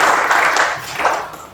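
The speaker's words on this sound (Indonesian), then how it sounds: "Tepuk tangan dulu." Applause from a classroom of students, a burst of clapping that holds steady and then tails off over about a second and a half, with no voices over it.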